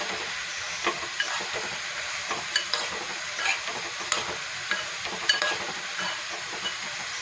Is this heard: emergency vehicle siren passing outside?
no